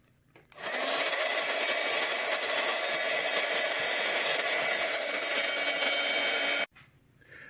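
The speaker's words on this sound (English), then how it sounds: "I'm gonna give this a dry with the heat tool" A heat embossing tool blows a steady, loud, close whooshing roar for about six seconds while drying gesso on an art journal page, then cuts off abruptly into quiet.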